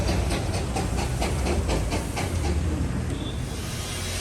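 A Darjeeling railway steam train pulls in with loud, close, evenly spaced chuffs over a constant hiss of steam, the beats easing slightly toward the end.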